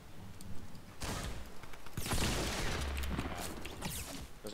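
Gunfire from a distant shooter in an online battle royale duo match, delivered as dense, noisy bursts of rapid shots and impacts that come in waves, fairly loud, with no talking.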